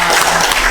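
A brief burst of clapping from a gathering of former high school classmates, loud and continuous for under a second.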